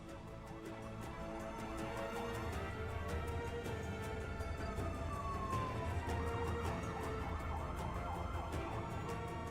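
Police sirens wail continuously over a low rumble of engines and traffic, loud and sustained throughout, from four police cars and a special forces unit escorting a truck carrying a pharaoh statue in Egypt.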